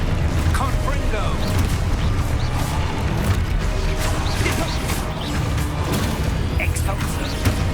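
A Confringo spell blast in Hogwarts Legacy, lost in a loud, unbroken wash of magical booms, crashes and cracks from rapid spellcasting, with voices in the clip.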